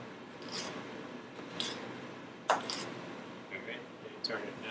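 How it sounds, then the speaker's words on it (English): Kitchen knife slicing a tough-skinned pepper into strips from the inside during a paella cooking class: a few soft, scattered crunchy cuts at irregular intervals, close and fairly quiet over low room noise. "So it's easier to cut from the inside and just make strips."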